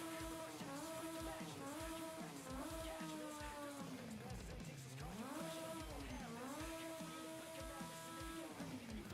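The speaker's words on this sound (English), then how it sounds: "it's just a motorcycle engine" A motorcycle-derived engine fitted to a car in Forza Horizon 5 revs steadily, pitch sweeping up and down through gear changes in a continuous buzzing drone, close and loud throughout.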